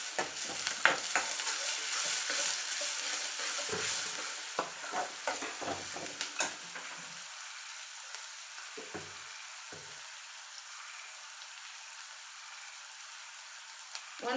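Crushed garlic hits hot oil in a pan for a prawn sigadi, giving a soft continuous sizzle with scattered stirring scrapes and clicks early on before settling into a quieter, steady fry.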